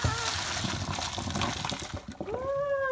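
Hot water poured from a kettle into a cooking pot in a home kitchen, a steady splashing pour that rises into a gurgling, filling tone near the end, close and moderately loud.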